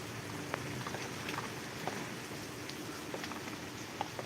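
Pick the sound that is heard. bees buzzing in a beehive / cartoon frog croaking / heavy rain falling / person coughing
heavy rain falling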